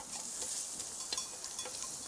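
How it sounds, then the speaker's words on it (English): Bacon lardons browning in butter in a pan give a soft, steady sizzle, quiet and close, with a few light stirring scrapes. "Just brown off the little bacon lardons for a moment or two"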